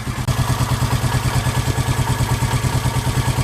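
A Honda 350 motorcycle engine idles at about 1,000 RPM during carburetor tuning, running on the left cylinder with an even, rapid, pulsing thump, steady and close.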